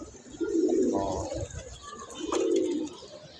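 Pigeons at a loft, just let out after a month to bathe, give two close, soft, throaty coos separated by a short pause.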